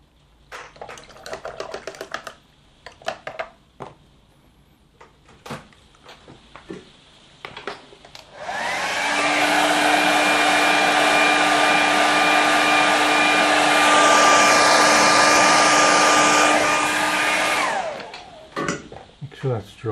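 A hair dryer dries a watercolour painting of Loch Shin, switching on after some quiet handling noises and blowing loud and steady for about nine seconds before cutting off.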